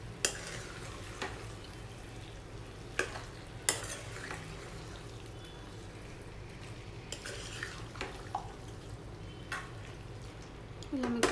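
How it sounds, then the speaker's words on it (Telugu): Chicken curry is stirred in a pan with a ladle over a steady sizzle, with occasional sharp metal clinks and scrapes standing out against the continuous frying hiss. "చికెన్ వేసిన తర్వాత ఇలా ఒక గరిటె తీసుకొని చికెన్ అంతా బాగా మిక్స్ చేయాలండి."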